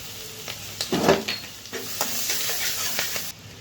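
Whole cumin, chopped green chili and ginger hit hot oil in a pan for Bengali shahi paneer, giving a steady close sizzle with brief louder crackling bursts and stirring scrapes, no talking.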